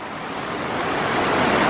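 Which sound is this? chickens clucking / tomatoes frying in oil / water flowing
water flowing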